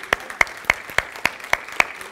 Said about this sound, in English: give the Lord a clap